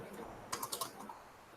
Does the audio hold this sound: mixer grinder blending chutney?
no